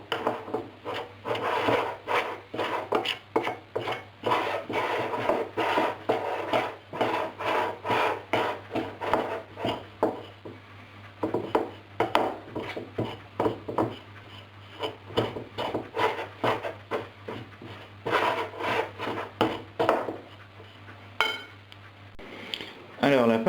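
Knepfle dough of flour worked by hand in a bowl, a steady run of close, rhythmic slapping and squelching strokes, with occasional clinks of the bowl.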